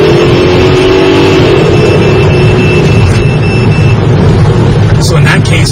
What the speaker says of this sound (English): Here's another example of over RPM.